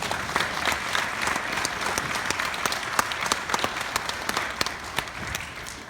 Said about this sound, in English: Y'all get them a round of applause.